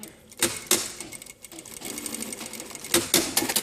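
A sewing machine stitches jacket lining at the neck in short bursts, two quick runs, a softer stretch, then a longer burst, close and clear.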